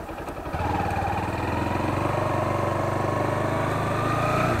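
A Bajaj Pulsar NS 160 naked street motorcycle runs while turning, its engine rising from a lighter tone into a steady, close droning note that holds for several seconds.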